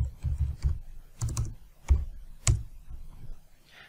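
Several bursts of clicking keystrokes as a command is typed on a computer keyboard, close and fairly quiet, in short irregular clusters with brief pauses between them and no talking.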